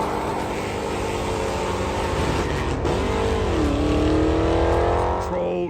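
A Ford Mustang GT engine revs loud and close in a deep, steady rumble, climbing in pitch through the second half before cutting off abruptly at the end, with no talking over it.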